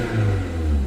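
A 1994 Toyota MR2 idles with a steady, even low rumble and a smooth mid-range hum, heard up close for under a second with no voices.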